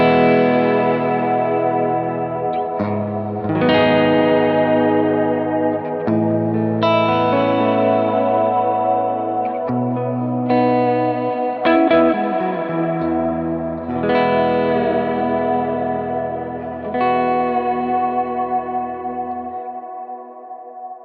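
Electric guitar through a Kemper, chords and melodic lines drenched in stacked long reverb and eighth-note delay, repeats smearing into a continuous wash that trails after each phrase.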